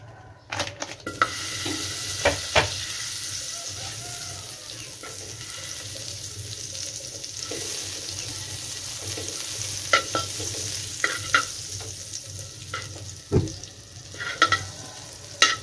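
Butter fries in a pan ahead of cabbage while a utensil stirs and scrapes. A steady sizzle runs underneath, broken by sharp clinks and knocks against the pan, with no voices.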